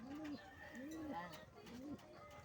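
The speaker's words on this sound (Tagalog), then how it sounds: "Yung mga ating alaga, mga lapate." Pet pigeons coo softly nearby in three repeated rising-falling calls, with a quiet voice and background noise underneath.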